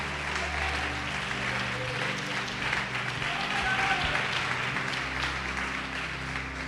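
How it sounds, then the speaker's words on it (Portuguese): A church congregation applauding during a sermon on faith and prayer, a steady wash of many hands clapping at moderate distance over a low hum, with a preacher's voice blending in. "Você pode aplaudir o Senhor por isso?"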